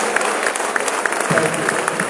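Loud, continuous applause from an audience at a university academic staff orientation, many hands clapping together in a dense, even wash with faint crowd noise mixed in.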